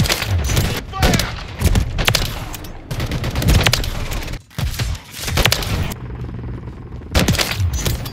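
Gunfire in a combat video game: repeated bursts of loud shots and booms spread across several seconds, with brief gaps and game voices in between.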